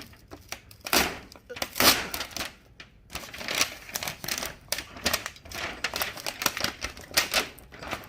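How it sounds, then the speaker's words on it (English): Tape pulled in rough, crackling tearing bursts from a fluorescent shop light fixture, close and loud, with a brief pause midway and a voice speaking over parts of it. "I'm just gonna pull the tape off."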